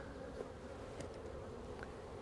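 Honey bees swarm around a beehive in a steady, dense buzz that holds without break, near and moderately loud, with no voices over it.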